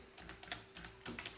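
Typing on a computer keyboard, quick light key clicks in an irregular burst, close and quiet with no voices.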